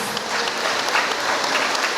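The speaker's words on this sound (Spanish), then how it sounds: "Nuestros novios sean fuertes, pero fuerte el aplauso. Fuerte los aplausos." Guests at a wedding in Ameyaltepec applaud the newlyweds with steady, dense clapping that holds evenly throughout, loud and close, like a crowd at a celebration.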